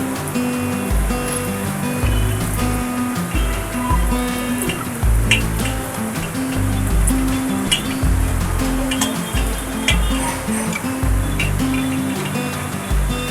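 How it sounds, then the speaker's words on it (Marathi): Semolina-coated banana slices shallow-fry in oil in a pan until crisp, giving a continuous, even sizzle that holds throughout beneath low background music. "आता आपण बाजूने तेल सोडणार आहोत. आणि चांगले क्रिस्पी होईपर्यंत एका बाजूने भाजून घेणार आहोत."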